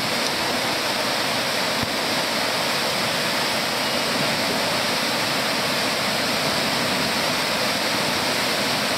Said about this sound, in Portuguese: Olha lá a cachoeira.